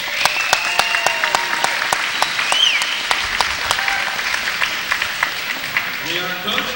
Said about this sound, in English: Steve Keller and Linda Clough being introduced as a big cheer goes up from the Lady Falcons